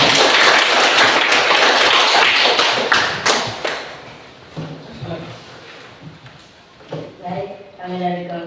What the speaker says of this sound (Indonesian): Kasih tepuk tangan untuk kelompok 3 dulu.